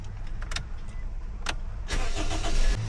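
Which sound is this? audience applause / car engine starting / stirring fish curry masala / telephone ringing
car engine starting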